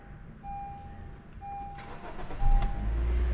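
Honda Jazz 1.2L petrol inline four-cylinder engine with CVT cranks briefly and catches, settling into a steady idle heard from close by, with no talk over it.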